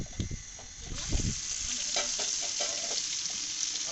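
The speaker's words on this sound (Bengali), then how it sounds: "এটা এবার দিয়ে দিচ্ছি গরম তেলে।" Marinated mutton pieces land in hot oil, setting off a crackling sizzle that starts with a few sharp clatters and settles into a steady, close frying hiss.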